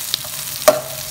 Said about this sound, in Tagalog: igigisa ko lang itong ating sibuyas